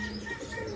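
A pigeon coos softly in a brief low warble, close by, with a few faint chirps in the background.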